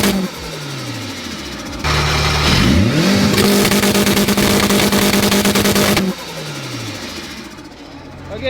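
A K20-powered Honda Civic revs hard against launch control, a loud sustained high-rpm bark with rapid crackling pops held for several seconds, bracketed by lower idle and falling revs, with brief voices nearby.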